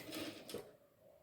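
A sewing machine stitches a quarter-inch shoulder seam on a baby top in two short mechanical bursts, quiet and close, with no talking.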